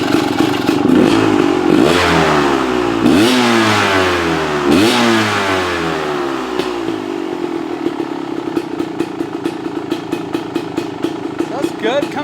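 A Beta X Trainer off-road motorcycle with an auto clutch revs hard in a few rising and falling blips close by, then settles back into a steady, lumpy idle.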